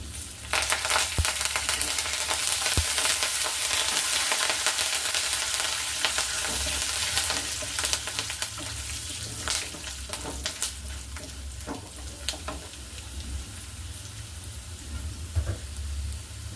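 Fresh curry leaves fry in hot oil alongside cashews for raw mango chitranna, giving a dense, continuous close sizzle dotted with sharp crackles and pops throughout.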